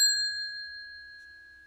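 A hotel front desk bell gives one clear, bright ding that rings out and slowly decays, heard alone and close.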